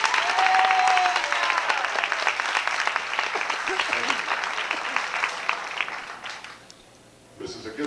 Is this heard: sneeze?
no